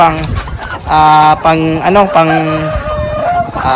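Heritage and native chickens cluck and squawk loudly up close while being fed on a range farm in Malaybalay, Bukidnon, with rising drawn-out calls and a busy flock chattering, and a person's voice speaks amid the birds.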